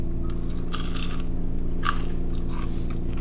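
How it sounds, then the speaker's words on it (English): Crunchy baked caramel corn, fresh from the oven, is bitten and chewed in several crisp, brittle bursts, heard close over a steady low hum. "It just breaks apart and it's so crunchy."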